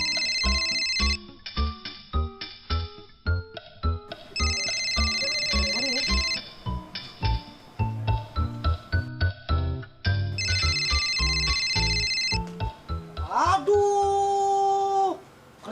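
A telephone ringtone chimes near the end with a few bright, sustained electronic tones, following a stretch of loud, busy music, in an Indonesian comedy sketch set in late afternoon before breaking the fast.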